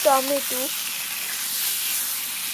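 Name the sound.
fish frying in oil with chili and cumin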